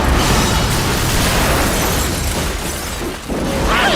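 A bomb blast in the Filipino horror film Pridyider, a loud, sustained roaring explosion with broad rumbling noise filling the whole stretch, dipping briefly near the end before surging again.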